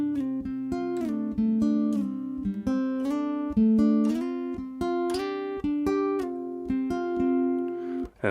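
Fingerpicked acoustic guitar playing the intro and outro part of a song, clear individual plucked notes in a bouncy pattern, close and fairly soft, alone.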